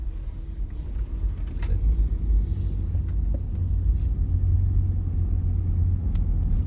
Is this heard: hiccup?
no